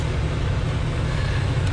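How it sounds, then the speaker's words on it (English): A V12 engine mounted behind the cabin of a sports car with most of its sound deadening removed runs with a steady, loud, low rumble throughout. "to listen to that V12 in the back is very special."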